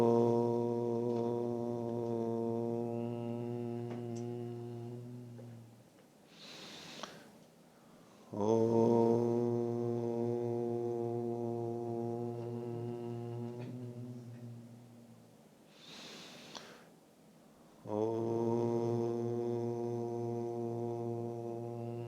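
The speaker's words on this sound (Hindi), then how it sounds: "प्रणव ध्वनि।" Om (pranava) chanted in a sustained low voice three times, each long, steady droning tone separated by a breath and gradually fading, close and resonant, with no other talking.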